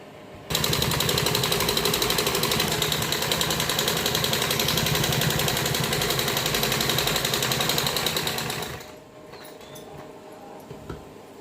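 An electric sewing machine stitches a net kurti, its motor running in a steady, loud, rapid whir for about eight seconds before stopping abruptly into a quiet room.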